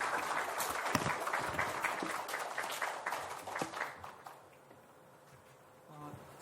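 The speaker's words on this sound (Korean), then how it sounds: "하나님 앞에 영광의 박수 드리고" Korean church congregation applauding to give glory to God before welcoming a missionary, a soft, fairly distant patter of clapping that fades after a few seconds into near quiet.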